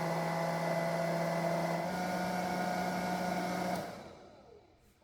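A Baby Brezza Superfast sterilizer dryer runs its drying cycle with a steady, close fan hum and whir that holds evenly, then winds down and fades out near the end.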